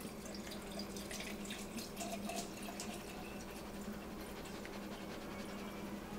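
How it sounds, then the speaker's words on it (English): Vinegar poured steadily into a jar holding nuts and bolts for rust removal, a continuous close liquid splash and gurgle with no talking. "Once you have all your nuts and bolts in the jar, you just fill it up with vinegar."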